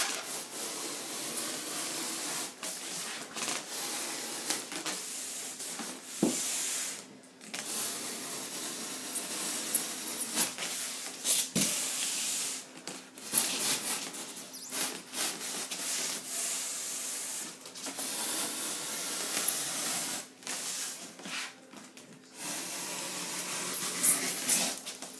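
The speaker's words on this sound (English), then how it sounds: "And the knife just follows your first cut through" A knife sawing through foam insulation board, a steady rasping scrape in long strokes with brief pauses, close and fairly quiet with no talk over it.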